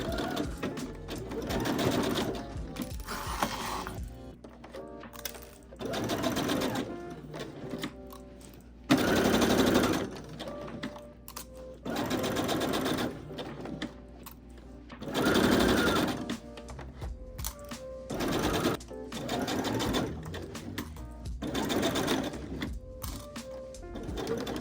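A sewing machine bastes and then sews seams on a vest and skirt. Repeated bursts of fast, close mechanical stitching, each a few seconds long, are separated by short quiet pauses for repositioning the fabric. No one speaks.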